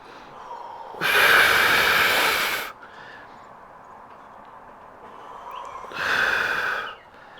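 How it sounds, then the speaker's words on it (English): Heavy breathing during a Pilates exercise, two long loud breathy exhalations several seconds apart with quieter room sound between them. "Keep breathing"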